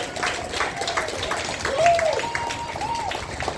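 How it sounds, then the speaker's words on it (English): A crowd at a Palestine protest in Auckland, New Zealand, applauds and claps in a steady wash of many hands, with whistles and a rising wavering tone above the clapping. "give them a big round of applause."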